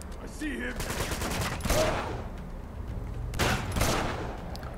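Gunfire in the action game Uncharted 2: Among Thieves, with two loud bursts of shots that stand out above a steady background of continuous shooting and battle noise, close and dense.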